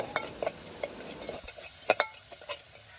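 A spoon stirs chili powder and salt into dal in a pan, giving scattered metallic scrapes and taps against the pan over a faint sizzle, close and irregular, with no talking.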